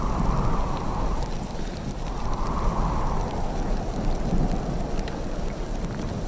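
A heavy rainstorm pours down in winter with low rumbling thunder, loud and continuous rain noise with rolling swells of deeper rumble and wind gusts, no voices.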